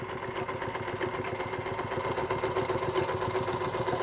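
Singer Featherweight sewing machine stitching in steady rapid rhythm, a close mechanical hum with fast regular needle beats and no voices.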